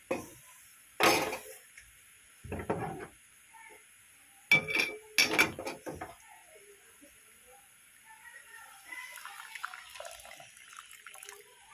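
Very hot milk poured into brewing tea in a clay wok, a few short splashing bursts of liquid followed by softer trickling and faint clinks, close and moderately quiet with no talk.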